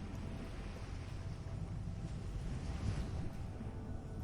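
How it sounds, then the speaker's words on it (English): A low, steady rumble of distant ocean waves mixed with soft wind, faint and continuous without distinct breaks. "as you stand here listening to the distant waves below"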